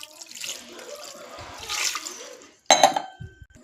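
Water splashes briefly as it is poured into a pressure cooker holding washed chicken with turmeric and salt. A short, fairly quiet trickle leads into one sharper splash near the end, followed by faint clinks.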